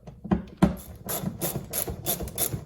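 A ratchet backs out three 5.5mm bolts that hold the inner fender to the bumper of a Ford Flex. It gives a close run of quick clicking and rubbing bursts in a steady rhythm, with no talk.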